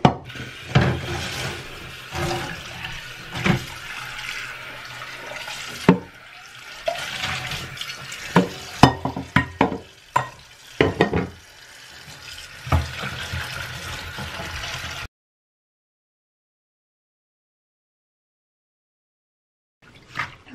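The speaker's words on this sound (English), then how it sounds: "I'm going to rinse it just in this little plastic container just because the sink is white" Dyed fabric being rinsed in a small plastic container of water, with repeated sloshing and splashing for about fifteen seconds before it falls silent.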